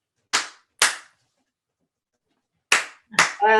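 Four sharp, loud, close hand claps in two pairs with a pause between, the last one running into the start of a voice.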